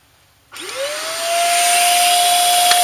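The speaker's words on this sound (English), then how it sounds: "I'll go ahead and turn on my vacuum." A vacuum cleaner switches on abruptly and whines up to speed, then keeps running loud and steady nearby.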